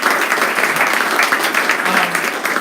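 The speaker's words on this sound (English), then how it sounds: "So give you guys a round of applause." A crowd applauds with steady, dense clapping throughout, fairly loud and close, with no one speaking over it.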